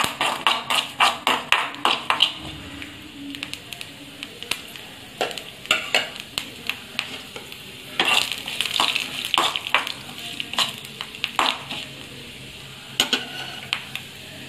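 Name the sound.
rice grains frying in a pan on medium flame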